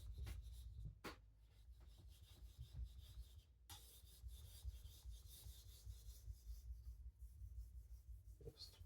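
A knife being polished on a Japanese natural whetstone, steady rubbing and rasping strokes of steel across stone, close and continuous with a few sharper scrapes.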